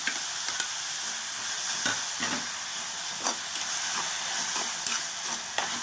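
Tomatoes fry in a hot pan for pakoda kurma. A steady sizzle runs throughout, broken by repeated scraping strokes of a spoon stirring, close and clear with no talking.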